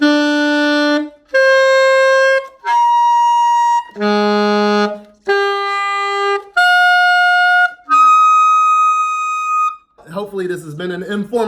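A wind instrument plays a scale pattern of ascending major sevenths, seven sustained separate notes leaping up and down in turn, loud and close, followed by a voice speaking.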